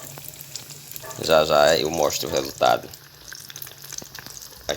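Breaded gluten-free eggplant slices frying in a pan give a steady sizzle, with someone speaking over the cooking in the middle of the clip.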